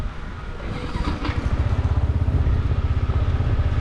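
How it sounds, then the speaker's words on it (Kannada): A Yamaha MT-15 motorcycle engine runs close by, building from a low rumble into a fast, even throbbing pulse that holds steady and loud. "MT-15 guys."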